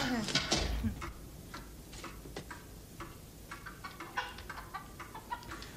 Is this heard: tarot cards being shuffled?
no